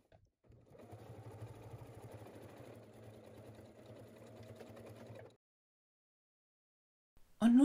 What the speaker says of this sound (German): dann nähe ich das so auf dem Stoff fest